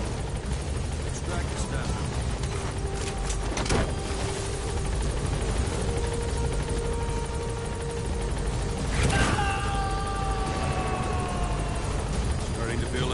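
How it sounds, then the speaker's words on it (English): Helicopter rotor thump and turbine whine in Metal Gear Solid V: The Phantom Pain, loud and continuous throughout, with someone speaking over it and occasional sharp game effects. "Board the chopper when you're ready for a mission"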